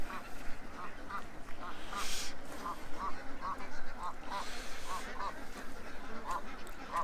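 Ducks gathered in the corner of a barn honk and quack in a steady scatter of short calls over a constant noisy background, with a couple of brief louder swells in between.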